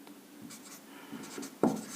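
Marker or chalk scratching on a board during a Hindi economics lesson on elasticity of demand, a run of faint, uneven strokes with a brief sharper tap near the end, fairly close and without talk.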